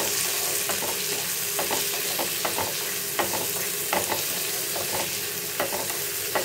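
Chopped tomato added to browned onions frying in a pan, a steady oily sizzle with repeated clicks and scrapes of a spatula stirring against the pan, close and continuous without talk.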